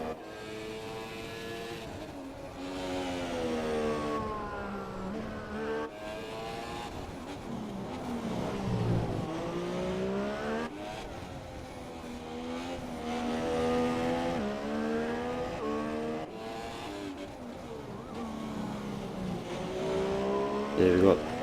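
GP3 race car engine in a racing video game on a Brazil circuit, a steady droning roar with rising and falling pitch as the car accelerates and shifts through gears, continuous and fairly loud, with a commentator talking over it.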